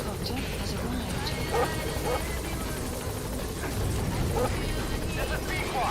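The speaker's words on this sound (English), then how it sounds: "Support helicopter has arrived." A support helicopter in Metal Gear Solid 5 arrives with a continuous rotor drone and engine rumble, steady and fairly loud, as radio voices speak over it.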